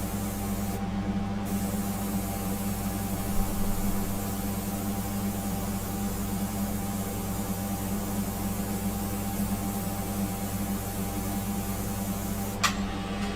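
An airbrush sprays India ink at raised air pressure from about seven inches away, giving a steady, continuous hiss that runs unbroken and fairly loud with no talking over it.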